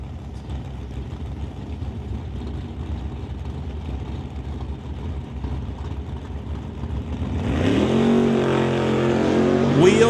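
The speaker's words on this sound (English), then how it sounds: "Wheels up high for Glenn Martin's Vega as he'll turn on the red ball by almost a tenth of a second" A Chevrolet Vega sportsman drag car launches wheels-up down the strip at an NHRA Summit ET Series race. A steady background rumble gives way near the end to a loud, rising engine roar.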